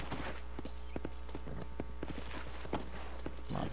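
Horse hooves walking in the video game Red Dead Redemption, an even clip-clop of steps at an unhurried pace over a low steady hum, fairly quiet with no talk.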